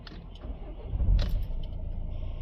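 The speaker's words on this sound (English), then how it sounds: "Now switch the ignition off, switch it back on," Renault Trafic van with its ignition switched off and back on, keys jangling followed by a brief burst of engine and dashboard noise, then a low steady hum.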